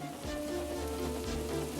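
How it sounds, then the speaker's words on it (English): Steady hiss of wind and rain in a Thomas & Friends model-railway scene, continuous and moderately loud with a low rumble beneath and no voices. "On the way, the weather changed. Wind and rain buffeted Edward."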